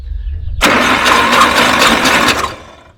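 An engine spun over by its starter with no ignition gives a loud, close whirring crank that lasts about two seconds, then winds down and stops, with a low hum before it begins.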